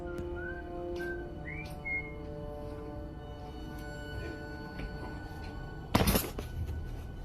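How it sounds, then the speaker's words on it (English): A few short, soft whistled notes rise and fall near the start, followed later by a sharp clattering knock over faint background hum. "he places the camera on a table and whistles once again"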